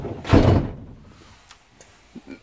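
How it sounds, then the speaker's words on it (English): A shower room door in a 2020 Auto-Sleeper Nuevo motorhome swings shut with one solid thunk near the start, followed by a few faint knocks and rattles. "you simply pull this forward and then close this door here"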